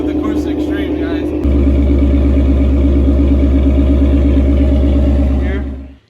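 A 2020 Ford Mustang GT350 with a Corsa Extreme exhaust idles, then deepens into a loud, steady low rumble close by before cutting off, with a voice speaking over it at the start.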